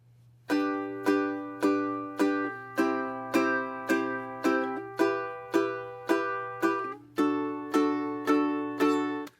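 A ukulele strums one chord at a time in even, evenly spaced upward strokes, all up strums, each ringing briefly over a low steady hum.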